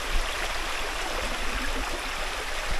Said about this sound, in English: a little bit of running water